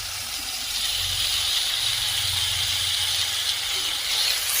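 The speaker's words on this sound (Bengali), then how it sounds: "বেগুন এবং এই যে পেঁপে ভালো করে ভাজা ভাজা করে নিচ্ছি" Eggplant and papaya frying in a pan, a continuous loud hiss of sizzling oil with a low rumble underneath, steady from start to finish and close up.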